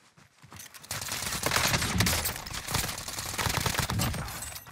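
A small gun fires a dense, rapid stream of shots in Warzone, loud and continuous, crackling after a brief quiet start.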